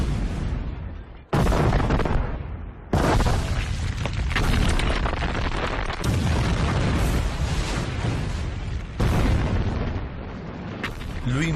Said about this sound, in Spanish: El 20 de mayo, los alemanes lanzan un ataque de artillería masivo.